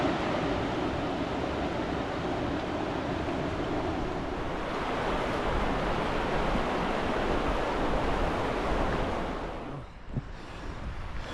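River water rushes steadily along the Kinloch River, a broad, continuous roar of flowing water mixed with wind noise, easing slightly near the end.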